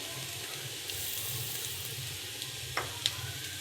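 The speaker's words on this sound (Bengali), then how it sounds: "এখন কোনো মশলা দেবো না, শুধু তেলেতে ভাজবো।" Beetroot and carrot frying in plain oil in a pan, with no spices added, giving a steady soft sizzle with a couple of brief clinks or stirs near the end.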